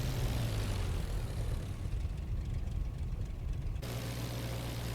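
A propeller aircraft taxiing in the IL-2 Flying Circus flight simulator game, its engine droning at low idle in a steady rumble that thins briefly in the upper range before returning fuller; no talking.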